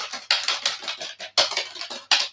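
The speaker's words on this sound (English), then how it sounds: "Keyboard is less crappy, but still not good. It sounds terrible." Keys clatter on an old Apple PowerBook laptop keyboard in short bursts of quick, plastic-sounding strokes, close and fairly loud, with brief pauses between runs.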